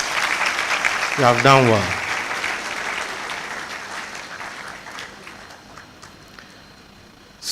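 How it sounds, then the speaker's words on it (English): At a university graduation congregation ceremony, an audience claps loudly and steadily, and the applause gradually fades. A voice briefly speaks over the clapping. "please clap for yourselves"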